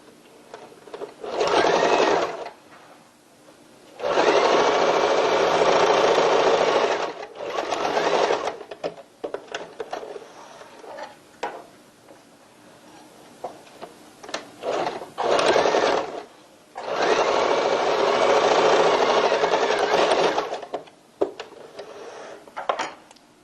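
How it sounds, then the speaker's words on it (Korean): A sewing machine stitches both sides of a fabric tote bag lining, running in several loud bursts of rapid stitching separated by short quiet pauses, with no talking. "속지를 반을 접어서 양쪽으로 박음질을 하시면 됩니다"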